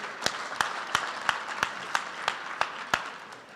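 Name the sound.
audience applause at a graduation ceremony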